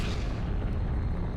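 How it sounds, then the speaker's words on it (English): A massive supernova explosion rendered as a sound effect, a dense, loud, rumbling roar that fills the whole stretch without a break. "A massive but short-lived star exploded as a supernova."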